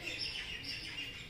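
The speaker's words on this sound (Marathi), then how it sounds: "सकाळ सकाळी असं नारळाच्या झाडावर पक्षी ओरडत असतात." Several birds call from a coconut tree on a cold early morning, high chirps and tweets repeating steadily at moderate distance, faint and continuous without any talk.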